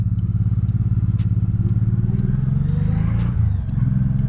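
A 1986 Honda Shadow 700 cruiser motorcycle pulls away in first gear, its steady low engine rumble loud and close, with clicking clatter and a brief rise in pitch as it moves off.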